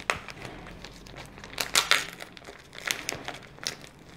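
Paper wrapping on a surprise gift is torn and crinkled open by hand in a few short rustling rips, close and fairly quiet, with no talking.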